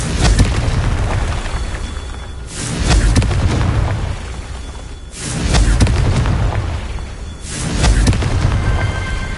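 Confringo fire spell in Hogwarts Legacy, a run of three or four loud booming blasts at regular intervals, each swelling and then fading into rumble.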